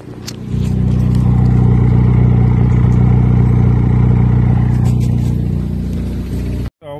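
A freshly rebuilt 2013 Ford Focus ST engine fires up and runs loud and close, settling into a steady idle with a rough clattering edge before cutting off abruptly near the end.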